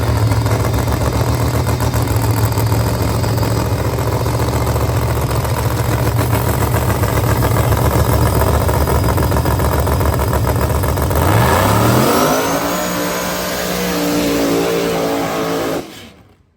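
A drag racing motorcycle engine revs hard through a run at the Snowbird Outlaw Nationals, after a stated valve spring breakage. The loud, sustained roar climbs in pitch after a shift in the second half, then cuts off abruptly at the end. No voices.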